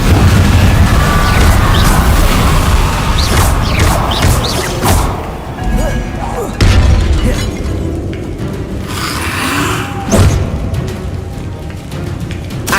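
Confringo spell explosions in Hogwarts Legacy hit as loud booms and thuds over a dense rumbling bed, with several sharp impacts scattered through the stretch and intensity dipping slightly partway.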